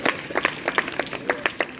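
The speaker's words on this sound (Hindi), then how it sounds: "एक बार जोरदार तालियां इनके लिए।" Audience at a Model Youth Gram Sabha awards ceremony claps in a quick burst, sharp uneven hand claps close by and fairly loud, with no talk over them.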